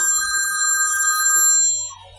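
A mobile phone ringtone plays alone: a bright, steady electronic melody, close and clear, that stops abruptly near the end.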